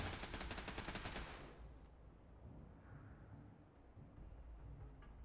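Rapid automatic gunfire in Fallout 4, aimed at a turret, rattles in a dense, loud burst for just over a second, then gives way to a low rumbling, echoing tail with scattered faint shots.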